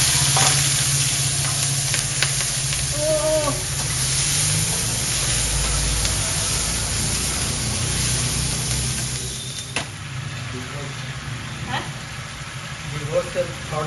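Tomato, green chilli, salt and turmeric sizzle steadily in a hot pan, a constant loud hiss with occasional stirring scrapes, while a voice murmurs faintly in places.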